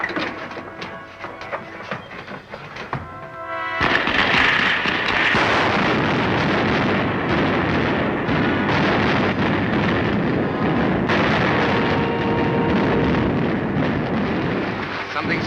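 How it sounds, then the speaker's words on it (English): Starting rockets firing in a 1939 Buck Rogers serial: after a few seconds of rumble, a sudden loud, sustained roaring blast bursts in and keeps going steadily to the end, briefly surging again partway through. "Fire the starting rockets."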